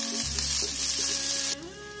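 Chopped scallion and minced ginger hit hot cooking oil in a wok, giving a loud, steady sizzle that flares up at once and settles slightly toward the end.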